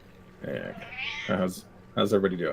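A pet cat meows at home on New Year's, giving several drawn-out, wavering cries that overlap with nearby people talking.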